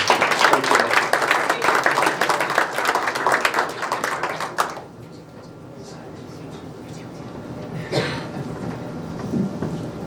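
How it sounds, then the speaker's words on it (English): Audience at a candidate forum applauding after a speaker, dense clapping for about five seconds that then drops away abruptly, leaving quiet room murmur and a few scattered sounds. "give Joe Atkins a nice round of applause."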